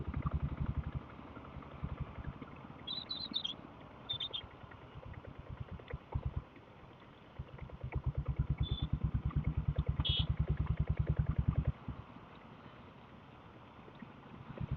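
Diesel Bullet motorcycle riding in the rain on a road from East Tambaram to Vengaivasal, its steady thumping engine loud and continuous, swelling louder toward the end before easing off, with no talk.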